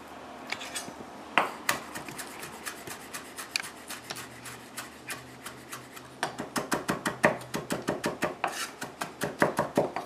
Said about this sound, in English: I have my dill here. I'm going to cut up real good here.